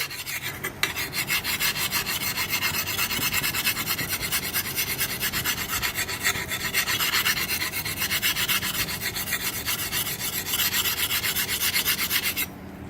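Steady, continuous rasping of a Lansky sharpener being worked under pressure along a garden tool blade that has a big chunk missing from its edge, close and alone for the whole stretch, with no talk.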